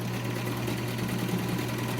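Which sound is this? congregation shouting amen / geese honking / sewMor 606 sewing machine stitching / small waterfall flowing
sewMor 606 sewing machine stitching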